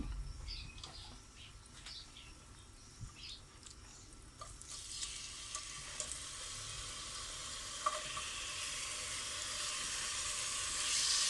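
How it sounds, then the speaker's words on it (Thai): Bacon and onion frying in melted butter for a home-style carbonara, a low steady sizzle that swells louder and brighter partway through and holds to the end, with faint stirring scrapes and no talk. "เดี๋ยวผัดเนยกับ เบคอน แล้วก็หอมใหญ่ก่อน"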